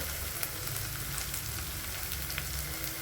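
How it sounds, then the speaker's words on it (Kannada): Onions frying in oil with curry leaves in a pan, a steady close hiss and sizzle running throughout with no other sound. "ಈಗ ಈರುಳ್ಳಿ ಹಾಕೊತಾ ಇದ್ದೀನಿ ಇವಾಗ ಚೆನ್ನಾಗಿ ಒಂದು ಐದು ನಿಮಿಷ ಚೆನ್ನಾಗಿ ಕಲರ್ ಚೇಂಜ್ ಆಗೋವರೆಗೂ ಫ್ರೈ ಮಾಡ್ಕೋಬೇಕು"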